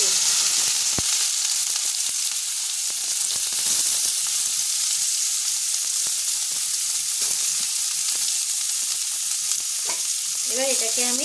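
Shredded banana stem stirred into hot oil tempered with mustard seeds and chili, a steady close sizzle and hiss of frying that runs unbroken, with occasional scraping stirs and no voices.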